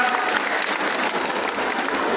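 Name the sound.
audience applause welcoming state president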